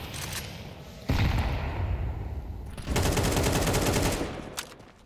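Rapid bursts of gunfire in a Counter-Strike esports match between paiN and TYLOO, with TYLOO pushing onto the B site. Dense overlapping shots come loud and close, easing briefly and then surging again before fading near the end.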